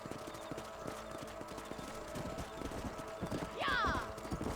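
Horse hooves clip-clop at a steady gallop across ranch ground in Red Dead Redemption, ending in a loud whinny near the end, with game music or chatter running underneath.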